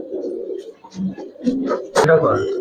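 Old-breed Giribaz pigeons coo in low, throaty bursts inside a loft, with a voice talking over and between the calls.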